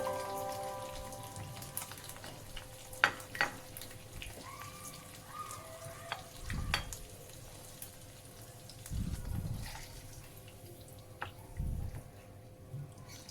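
Boiled eggs fry gently in oil on a low-medium flame and are stirred now and then, giving a faint, sparse crackle of popping oil with occasional soft knocks of the spoon against the pan.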